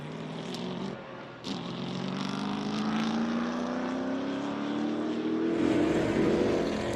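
SVRA stock race cars roaring around the Sebring circuit in 2023, a sustained loud engine drone rising steadily in pitch as the cars pass, heard from a distance with no talk.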